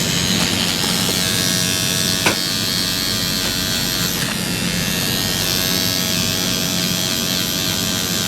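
A tattoo machine buzzes steadily and loudly close by, a continuous electric whine with a faint click or two.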